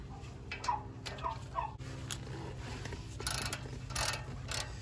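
A ratchet with a 12 mm socket removes a brake caliper bolt on the front passenger side of a 2014 Toyota Tundra, ticking in quick close bursts of clicks with brief pauses between strokes.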